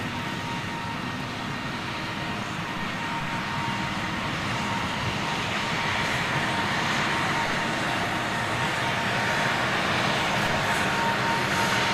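A Virgin Airbus A330 with CF6 engines at London Gatwick produces a steady, broad jet engine roar that holds loud and even and swells slightly toward the end, with no voices.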